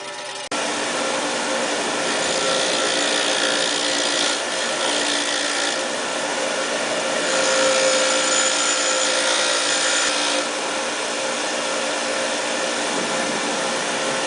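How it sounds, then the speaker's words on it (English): An angle grinder fitted with a wire wheel whirs continuously while cleaning YZ250 motorcycle parts, a loud, steady close-up drone that shifts slightly in pitch as pressure changes, with no talking. "grinder with a wire wheel attachment. And get to work."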